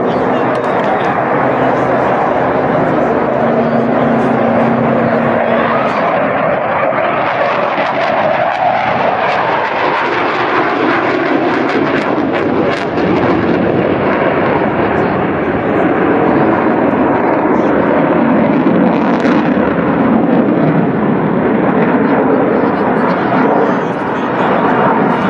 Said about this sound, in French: La police du ciel sur votre droite décolle aujourd'hui un Rafale de la 4e escadron de chasse.